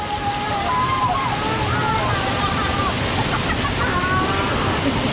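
Waterfall at Malinao Falls in Libmanan, Philippines, a steady close roar of falling and churning water filling the whole clip, with faint whistling tones drifting over it.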